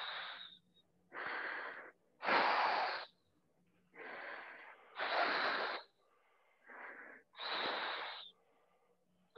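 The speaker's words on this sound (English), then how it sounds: "I'm going to breathe out loudly so you can hear" Forceful exhalations during an aikido exercise: about seven loud, close breathy bursts through the nose and mouth, each roughly a second long, separated by short silences, with no talking.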